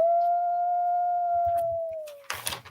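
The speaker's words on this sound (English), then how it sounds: "Let's live and let howl." A wolf gives one long, steady howl held close and clear for about two seconds, then breaks off into a short burst of broadband noise.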